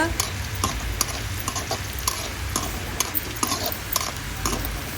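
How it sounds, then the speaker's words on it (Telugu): Chilies fry in hot oil for a tempering, with a constant crackling sizzle broken by repeated sharp scraping and clinking taps of a spoon stirring in the pan. "మిరపకాయలు వేసేసుకుంటున్నాను ఆ విధంగా రుంచేపు మంచిగా వేగిన తర్వాత"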